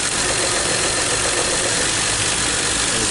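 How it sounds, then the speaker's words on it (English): A car engine running rough from a leaking spark plug wire, with a cylinder misfire, drones loud and steady close by, with no talk over it. "So we definitely have a plug wire with a leak. You see the vehicle is like running rough."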